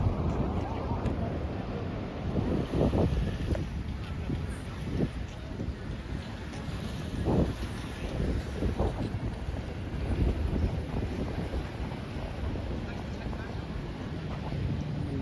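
Wind on Pattaya beach in Thailand buffets the microphone with a continuous low rumble and rising gusts, with faint voices beneath it.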